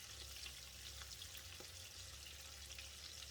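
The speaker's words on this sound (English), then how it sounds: "Remove it from the hot oil. And repeat with the rest of the squid ring over the medium-high heat." Squid rings deep-frying in hot oil over medium-high heat, a faint, even bubbling sizzle that runs throughout with a light low rumble beneath, heard close and without talk.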